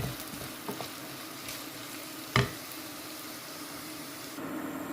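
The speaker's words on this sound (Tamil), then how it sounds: "இதை நல்லா செவக்க வறுத்துக்கலாம்." Onions fry in a pan with a soft, steady sizzle, and at one point a single sharp knock stands out from the quiet background. No one speaks.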